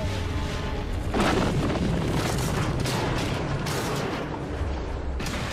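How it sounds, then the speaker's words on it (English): The Atlantic Pride bomber blows up in mid-air in a board-game-style bombing mission, heard as a loud, rumbling boom that rolls on for several seconds with no talk over it. "Atlantic Pride explodes in the air, and her entire crew are killed."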